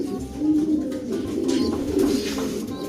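Pigeons cooing at a breeder's loft, low throaty coos repeating in overlapping rhythmic phrases, close and fairly loud with no talking.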